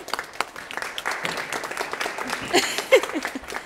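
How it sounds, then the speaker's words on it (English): An audience at a middle school student council breakfast claps steadily as officers are called forward, a moderate, continuous patter of many hands in a room. "We can clap."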